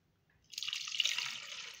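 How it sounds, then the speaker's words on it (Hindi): Ginger and water going into a blender jug: a soft pour begins about halfway through and continues as a steady close trickle, alone with no talk. "थोड़ा सा मैं इसके अंदर पानी ऐड कर रही हूँ"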